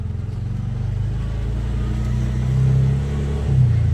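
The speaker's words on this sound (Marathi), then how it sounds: "तर हे बघा मी आता सोडतोय क्लच वगैरे. तर आता रिक्षा पुढे जाते." An auto rickshaw pulls away as its clutch is released, its engine giving a steady, close, low rumble that rises slightly as it moves off, with no talk over it.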